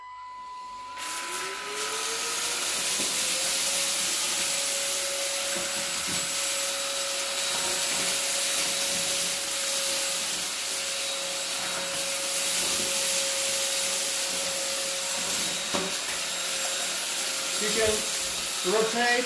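Silvercrest SHAZ 22.2 C3 cordless hand-held and upright vacuum cleaner on normal mode running with a steady close whine and hiss while sucking up popcorn, lentils and rice, with rattling pickups and a few brief dips.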